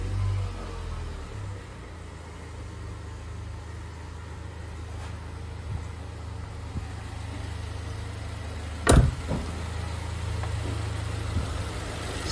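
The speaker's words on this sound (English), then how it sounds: "So, engine's running smooth." A Mercedes A150 W169 engine idling after an oil change, a steady low rumble heard close up with a few faint clicks and one sharp knock partway through.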